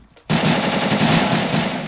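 Rapid automatic gunfire from a Minecraft guns mod, a loud continuous burst of fast repeated shots starting abruptly and running without pause, with no talking.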